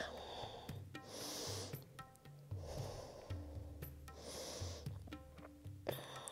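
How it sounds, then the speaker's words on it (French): Slow, deep breaths during a yoga posture, quiet rhythmic inhales and exhales rising and falling close by with no talking. "Et on respire"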